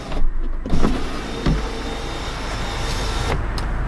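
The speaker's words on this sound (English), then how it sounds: "Very quickly opening sunroof." The power sunroof of a 2012 Fiat 500 Lounge opens: a click and a few thumps, then a steady electric motor whirr that runs for several seconds. It is close up inside the car and loud.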